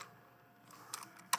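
Quiet typing on a computer keyboard: a near-silent stretch, then a few sharp, separate keystrokes clustered toward the end, close and dry with no talking.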